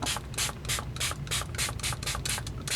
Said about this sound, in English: spray your water.